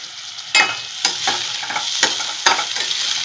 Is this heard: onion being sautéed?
yes